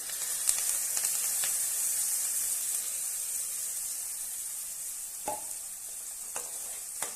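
Freshly ground masala paste for a garlic kulambu sautés in hot oil, giving a bright, even sizzle with a few quick stirring clicks and knocks scattered through, heard up close with no speech.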